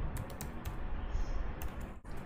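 HTML code is typed on a computer keyboard in a brisk run of close key clicks, with a short pause near the end before typing resumes.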